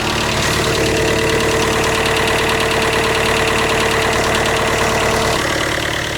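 A Mercedes diesel engine runs loud and close, a steady knocking idle with a rapid rhythmic clatter over a low drone, continuous for several seconds with a slight shift near the end and no talking.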